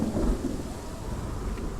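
Thunder rumbles through a heavy thunderstorm in the dark game Hellblade, a loud, continuous low roll over steady rain, strongest at the start and holding without talk.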